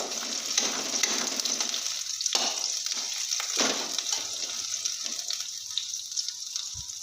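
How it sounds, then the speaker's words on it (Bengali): Onions fry in hot oil for a crispy chicken snack, giving a steady, close sizzle with a few stirring sounds and no talking. "তেলটা ভালো করে গরম হয়ে গেলে পেঁয়াজটা দিয়ে দেবো পেঁয়াজটা দিয়ে বেশ ভালো করে লাল লাল করে ভেজে নেব"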